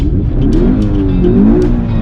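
Toyota 86 with its 200-horsepower four-cylinder boxer engine revving hard on a racing circuit, a loud, steady, rising engine note filling the whole moment with no talk over it.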